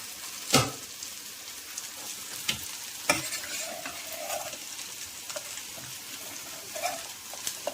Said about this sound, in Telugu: చక్కగా తాలింపు పెట్టేస్తాను